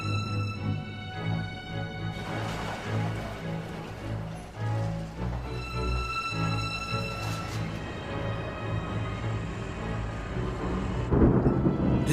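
Deep thunder from a tropical storm rumbles over the Pacific, rolling and continuous, mixed with a dense wash of wind and rain and a swelling surge near the end.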